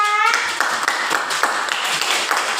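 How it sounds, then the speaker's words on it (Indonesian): A small group of classmates claps in a brisk, uneven burst in a classroom, close by, following a brief tone at the start. "tepuk tangan untuk kelompok 3"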